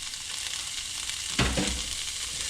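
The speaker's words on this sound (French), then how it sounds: "vous faites suer les légumes" Vegetables sweat and fry in a pan with a soft, steady sizzle, broken by a short louder burst of stirring partway through.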